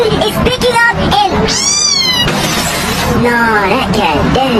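A cat meows loudly in rising, wavering cries amid a hurricane's roaring wind, with a person's voice talking over the storm.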